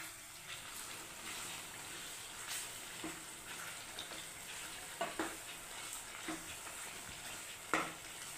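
Spicy kharda chicken with chilli, coconut and sesame sizzles quietly in a pan while being stirred, a soft steady fry broken by occasional scrapes and clinks of the spoon. No one speaks.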